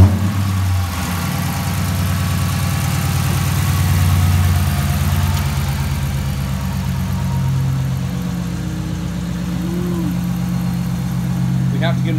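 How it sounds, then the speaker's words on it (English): A car engine idles through a newly fitted exhaust system, a deep steady low rumble running throughout while someone talks over it. "Listen to this exhaust system. It sounds meaner than anything."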